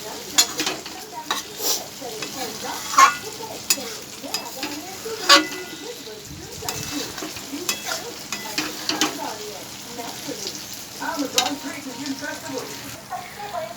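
An eggplant and potato curry with fish in a pan sizzles softly while a spatula stirs and scrapes in uneven strokes, with faint background voices murmuring now and then.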